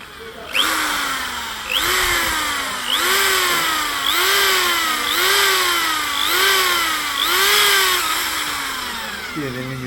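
A power drill bores through the deck of a BMW N55 engine block in repeated bursts, its motor pitch rising and dropping roughly every second in a steady rhythm, loud and close with no speech.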